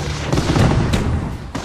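Artillery barrage in the World War II strategy game Company of Heroes, German forces at the Falaise Pocket, with several heavy booms and rumbling blasts overlapping in quick succession over a dense battlefield din.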